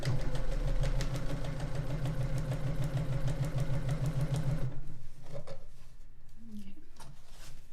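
A sewing machine runs steadily for about five seconds, stitching a quilt seam with a fast rhythmic mechanical hum, then stops, leaving quieter room noise and faint handling sounds.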